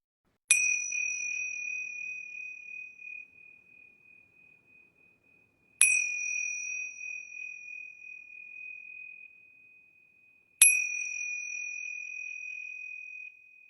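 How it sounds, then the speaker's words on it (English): Yoga bells rung three times during a class's final relaxation, each a clear bright ding that rings out and slowly decays, evenly spaced about five seconds apart in an otherwise silent room. "Now I'm going to ring these yoga bells 3 times."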